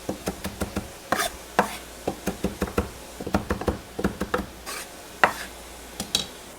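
Meatloaf mixture packed tightly into a bowl is chopped, giving a quick run of sharp, close knocking strikes in an uneven rhythm with brief pauses, loud and clear with no talk.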